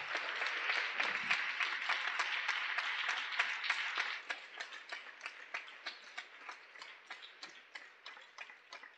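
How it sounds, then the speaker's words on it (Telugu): A church congregation at a Telugu adoration service claps loudly, starting as a dense wash of applause and then settling into rhythmic, evenly spaced claps, heard alone without talk. "గట్టిగా చప్పట్లు కొట్టండి."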